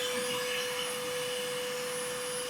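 Steady, loud whine of a bee vacuum sucking up honeybees from a large colony, a constant droning hum with no pause.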